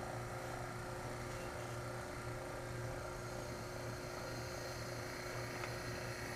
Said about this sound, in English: it's going to do is take a lot of effort for the compressor to cool that brass down